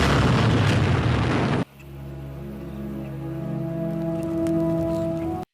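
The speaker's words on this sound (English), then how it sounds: "Enraged, Vasilyev fires a rocket into the house and sets it ablaze." A rocket strikes a wooden house in a film, giving a loud roaring blast of noise that cuts abruptly into a lower crackling, burning rumble with a droning tone beneath.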